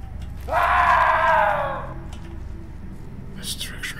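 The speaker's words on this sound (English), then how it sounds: "I gotta follow the screams." A loud, drawn-out human scream in a horror video game, one cry of about a second and a half that rises sharply and then fades over a low, murky background rumble.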